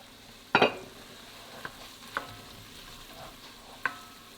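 Whole garlic cloves simmering in a pot for broccoli cheddar soup: a soft, quiet bubbling bed broken by a sharp utensil clink near the start and a few lighter taps and stirs spaced over several seconds.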